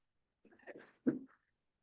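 A single short sneeze from an adult in a quiet indoor interview setting, a soft inhale followed by one sharp burst, close and isolated.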